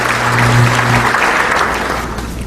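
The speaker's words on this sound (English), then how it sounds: "Let's have a round of applause for them." Audience applause at a chamber of commerce breakfast honouring two teams, steady dense clapping throughout, loud and close, with a low hum beneath in the first half.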